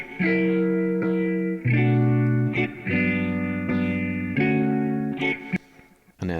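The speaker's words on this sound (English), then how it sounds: "I did manage to find a guitar sample from Cymatics" A guitar sample processed with EQ, echo and filter effects plays sustained, chorus-like chords with a warm, distorted tone and echoing tails, loud and alone.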